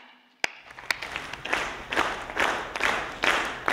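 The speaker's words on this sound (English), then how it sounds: "I want everybody to clap with me." An audience at a compassion and healthcare conference claps along in a steady rhythm, a few sharp early claps growing into regular, loud group claps about every half second, with no talk over them.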